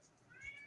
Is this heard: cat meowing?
yes